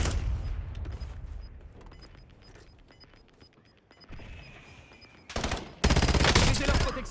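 Gunfire rings out in the video game Warzone, with distant shots and a steady ticking first, then loud, close automatic bursts erupting near the end.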